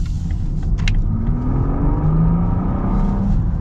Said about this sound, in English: That engine though, that sounds pretty crazy.